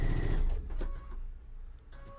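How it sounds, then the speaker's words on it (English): Sewing machine stitching through quilt blocks, a close mechanical whir at the start that stops and gives way to faint handling noises, with a short burst near the end. "and we are going to sew through."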